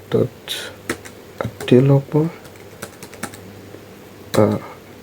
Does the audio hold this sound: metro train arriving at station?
no